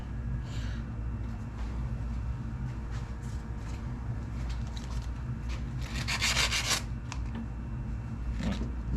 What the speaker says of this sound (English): I'm gonna try and sand this a bit better on a vise.